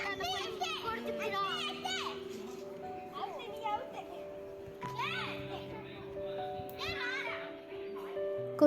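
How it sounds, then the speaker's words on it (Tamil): Children play outdoors at a temple flower festival, their high voices chattering and calling out in overlapping bursts, fairly close, with adults speaking among them. "கொஞ்ச நேரம் அந்த பசங்க விளையாடுறதெல்லாம் உட்காந்து பார்த்துட்டு இருந்தோம்."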